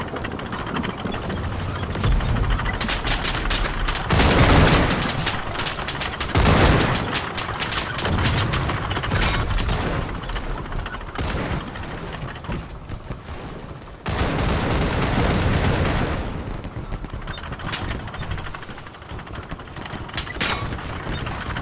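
Dense WWI trench-battle gunfire in the Over The Top video game, a steady crackle of rifle and machine-gun shots with heavier bursts and booms rising and falling throughout.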